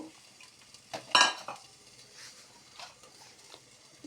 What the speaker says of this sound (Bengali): এই চন্দনা শুটকির জন্য এদিকে আলু আর কারকল বাজা করে নিয়েছি এখন এইটাতে দিয়ে দিচ্ছি যে শিম বিচিগুলো